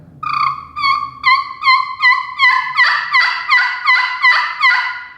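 Clear turkey yelps worked from a friction pot call with a striker, about a dozen evenly paced, loud close notes in a steady rhythmic series, each with a crisp front end, and nothing else alongside them.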